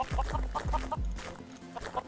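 Several Minecraft chickens cluck in short, repeated bursts, fairly close, with a low thumping pulse underneath and a quieter stretch before a few more clucks at the end.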